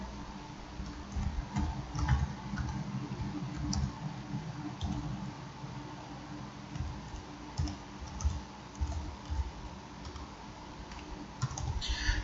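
Someone types text on a computer keyboard, a steady run of soft, close key clicks with brief pauses, over low room noise.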